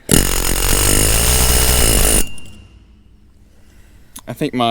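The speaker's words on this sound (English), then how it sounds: "So first thing we're gonna try is air hammer." An air hammer rattles loudly and continuously for about two seconds, driving roll pins out of a corn head in a shop, then stops, leaving a quiet stretch before brief talk.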